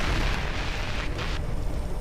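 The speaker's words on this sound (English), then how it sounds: "A massive explosion rocks Forrestal" A massive explosion aboard the aircraft carrier Forrestal during a deck fire, heard as a sustained, loud, roaring blast of broadband noise with a rumbling low end and no distinct onset, filling the whole stretch.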